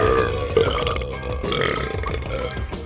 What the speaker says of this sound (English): The cave echoed with burps, hiccups, and belches.